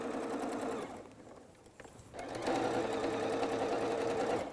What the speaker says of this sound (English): I'm going to sew right here on that 1/4-inch seam